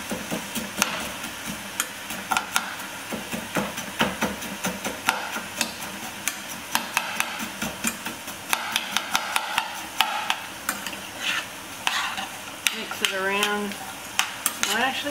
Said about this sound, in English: Now I'm still working on my cauliflower rice. I'm just going to break up the bigger chunks.